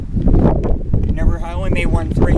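Gusty wind outdoors at a basketball court, roaring and buffeting the microphone as a low rush under close, loud talking throughout.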